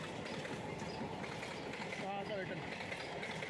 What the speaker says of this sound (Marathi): हे बघा आमची ट्रेन आली आहे।